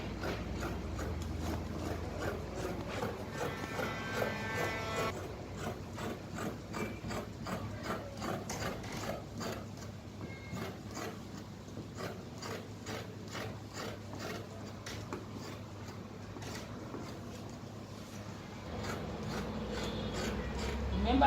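Paper dress pattern being cut with scissors, a rapid series of close crisp ratcheting snips and crunches running steadily throughout at a quiet level.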